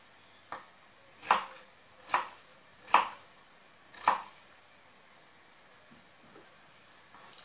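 A knife chopping through food on a cutting board in a home kitchen gives four crisp, fairly loud single chops at an even pace, after a lighter first tap, with quiet gaps in between and no talking.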